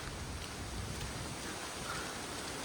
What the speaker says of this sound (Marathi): आता पाऊस चालू झालाय